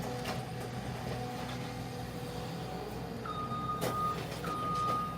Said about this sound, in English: that's a 323 truck or excavator